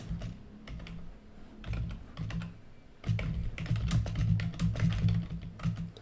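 Keys clattering on a computer keyboard in quick, uneven bursts of close clicks, pausing briefly and then resuming more busily, with no voices.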